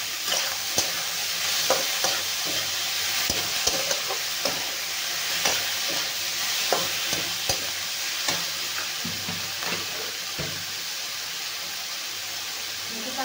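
Tomatoes with half a spoon of salt frying and sizzling in a pan, a steady loud hiss broken by repeated sharp clicks and scrapes of stirring.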